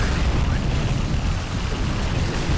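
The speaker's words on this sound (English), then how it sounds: "A huge explosion" A huge, loud explosion in the Warhammer 40,000: Dawn of War video game, a dense sustained rumbling blast filling the whole clip during a Sisters of Battle versus Orks battle.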